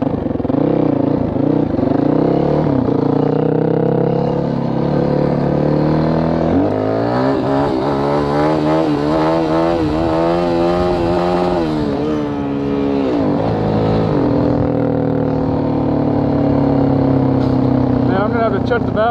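A Yamaha WR450F dirt bike engine screams near its rev limiter, the pitch rising and falling with throttle blips across sustained loud revving while the rider talks over it.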